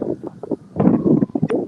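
Wind buffets a microphone outdoors on a paintball player's property, with loud, uneven gusty rumbles and thumps across a brief stretch.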